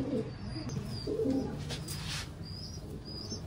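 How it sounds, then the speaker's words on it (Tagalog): Domestic pigeons coo softly in a loft, several low murmuring calls spread across a few seconds over faint background noise. "Ito mga kalapatids."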